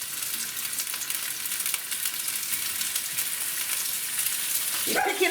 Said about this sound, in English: Should be picking up that sizzle.